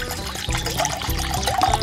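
Water glugs and splashes as half a bottle, 280 ml, is poured out beside a lake, a steady close liquid pour with gurgling bursts running through the whole moment.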